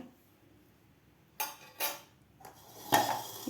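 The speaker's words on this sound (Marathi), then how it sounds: "आता आपण हे आवळे एका चाळणीमध्ये काढून घेऊया" Syrup-soaked amla (Indian gooseberry) pieces for sweet-sour amla candy are tipped into a strainer set over a bowl, giving several short clinks and scrapes of utensils against metal, separate knocks with quiet gaps between them.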